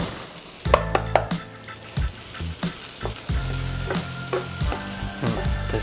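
Chili and onions sizzle in a generous amount of butter over high heat. A loud, steady fry with a few sharp clicks at the start sounds under background music.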